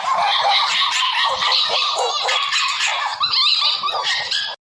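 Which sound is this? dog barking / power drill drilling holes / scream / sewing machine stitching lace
dog barking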